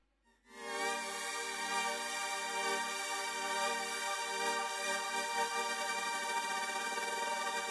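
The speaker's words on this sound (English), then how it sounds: "Alright, so we have our LFO pad." A Serum LFO pad swells in after a moment of silence into a rich, sustained synth tone full of layered harmonics. It holds steady with a subtle rhythmic wobble and no voices over it.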